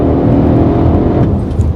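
Mercedes ML 63 AMG V8 engine driving hard through curves, a loud, steady close-up engine roar with no talking.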